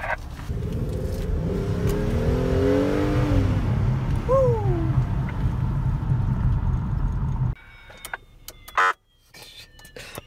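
A Ford Police Interceptor Taurus patrol car pulls away, its engine droning loudly and rising in pitch as it accelerates. After several seconds the engine noise cuts off sharply, leaving scattered clicks and knocks.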